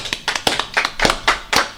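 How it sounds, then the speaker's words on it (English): Podcast hosts clap their hands in a studio, about a dozen sharp, distinct claps in a loose, uneven rhythm, close and fairly loud, with no talking. "let's give a live hand clap for Mr. Dwight Howard"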